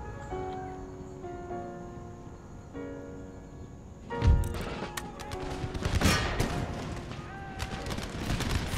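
Cannons firing canister shot in Empire: Total War, a sudden heavy boom followed by a ragged string of sharp cracks and distant bangs over a low ambient bed, no talk.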